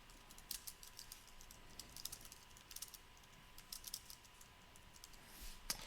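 Quiet, close typing on a computer keyboard, a steady stream of light clicking keystrokes in small bursts, with one sharper tap near the end and no voices.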